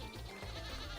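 Goats bleat in the survival game Vintage Story, a steady low livestock call filling the whole second with no talk over it.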